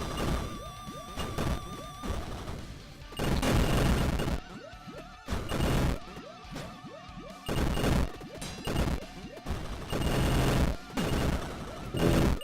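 Repeated TNT explosions in a dark underwater video game level, loud crashing bursts arriving in irregular clusters with short quieter gaps between them.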